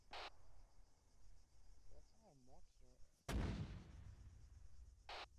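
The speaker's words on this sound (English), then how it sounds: "Fire one salvo for impact" A single heavy artillery salvo booms out in a military video game, a sharp broadband blast at mid-clip that rolls off into a long low decay, with short bursts of game noise before and after and a brief warbling tone earlier.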